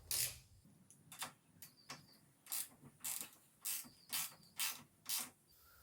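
Ratcheting wrench clicks in short bursts, close and fairly faint, while bolts are tightened down on motorcycle highway pegs; about eight separate clicking pulses spread evenly through the stretch.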